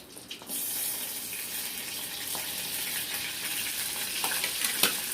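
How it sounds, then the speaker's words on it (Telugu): Two dried fish drop into hot oil and start frying. A loud, steady, hissing sizzle begins abruptly after a brief quiet moment and continues close up, with a few faint pops and clicks. "ఆయిల్ వేడెక్కింది రెండు చేపలు వేసేసుకున్నాం"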